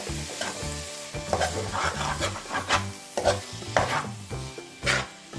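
Chopped tomatoes with masala stirred in a pan, a spoon scraping and rubbing in uneven strokes over a soft, steady sizzle, close and clear with no talk.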